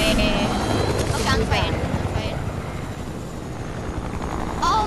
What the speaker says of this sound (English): I found a new helicopter in 100.